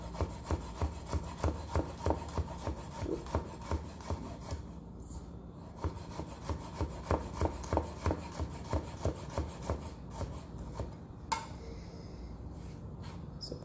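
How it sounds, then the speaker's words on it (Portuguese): A knife chops garlic very finely on a cutting board, a fast run of steady light taps and scrapes lasting several seconds, close and soft, with no speech. "você começa cortando bem fininho, você vai cortar bem pequenininho"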